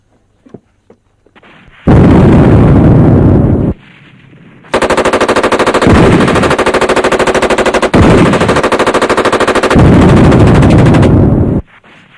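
Machine gun fire in a war drama about CRPF jawans at Sardar Post: loud, sustained automatic bursts, one about two seconds long, then a long rattling stretch broken by brief gaps, close and dominant.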